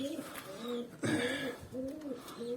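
Pigeons coo in soft, low repeated phrases close by, a few rounded calls rising and falling over a faint background hiss.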